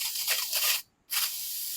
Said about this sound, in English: So we will be using some coil cleaner and some compressed air.